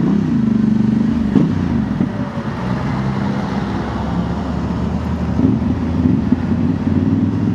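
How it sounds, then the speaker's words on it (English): A 2025 Honda Transalp fitted with a Dominator MX2 slip-on exhaust and DB killer idles and revs with a low, rumbling engine drone, held fairly steady and loud close by with a slight rise in revs, no talking. "it has a very nice sound at the end when I rev it"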